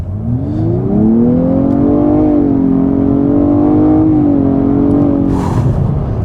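A 2016 Nissan Maxima SR with a 3.5 litre V6 accelerating onto a highway, a loud steady rising engine note heard from inside the car, with no talking.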